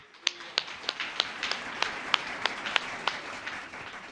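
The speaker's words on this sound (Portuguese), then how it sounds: "Uma salva de palmas ao Senhor" Steady rhythmic clapping at a church service, about three claps per second, crisp and moderately close, continuing evenly as praise for the Lord.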